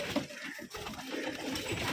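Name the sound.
Rajshahi giribaj pigeons cooing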